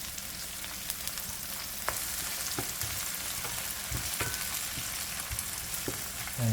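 Vegetable stock simmers and sizzles in a pan while cooking for rasta pasta, a steady bubbling crackle with scattered pops and occasional soft stirring, no voices.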